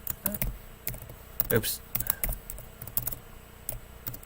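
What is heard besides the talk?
typing on a computer keyboard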